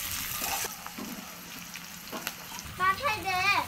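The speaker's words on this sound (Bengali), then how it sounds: "পেঁয়াজ ভাজা হয়ে গিয়েছে" Onions frying in oil for handi chicken give a soft, steady sizzle with brief stirring scrapes, fairly quiet and close, with a faint voice near the end.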